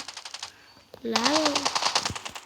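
Rapid gunfire in the mobile shooter Standoff, a fast run of sharp shots heard under excited male chatter in Telugu.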